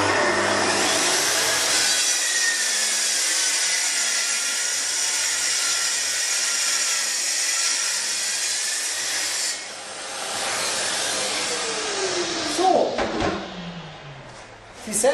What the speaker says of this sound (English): Now I place my circular saw. I have already set the depth to 30 centimeters. Now I can cut the plate.